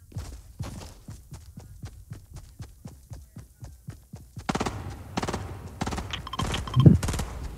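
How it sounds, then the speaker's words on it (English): Gunfire in the video game Fortnite: a steady run of about a dozen sharp, evenly spaced shots, followed by a denser, louder burst of mixed game noise and clatter. "Shots been fired."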